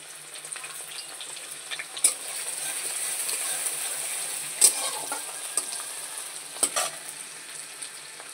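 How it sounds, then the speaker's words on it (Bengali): Chopped onions frying in hot oil for a Bombay duck (loitta fish) recipe, a steady soft sizzle running throughout with a few sharp clinks of a utensil against the pan. "পেঁয়াজটাকে সুন্দর করে ভেজে নেব।"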